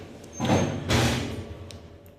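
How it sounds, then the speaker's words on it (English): The door of an old Dover elevator slides shut, heard nearby as two close, heavy rumbling pushes with a dull thud, then a fading mechanical hum. "we're going to close the door and get ourselves a caveat of this Dover elevator"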